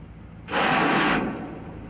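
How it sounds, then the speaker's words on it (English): A narrowboat bow thruster fires in a lock, a single broadband whooshing burst, loud and close, lasting under a second before fading back into low rumbling background noise. "That noise was me using the bow thruster just to make sure we don't catch the sides."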